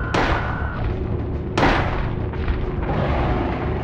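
Gunfire in the Silent Hill video game: two sharp loud bursts, one at the start and one about a second and a half in, each trailing into a dense rumbling background of game sound with no talk.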